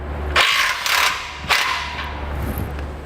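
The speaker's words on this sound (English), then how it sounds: "Now we'll loosen our muffler clamp with the 15mm socket." A ratchet fitted with a 15mm socket works loose a muffler clamp. Three short bursts of clicking come close up over a low steady hum, with a quieter rasp near the end.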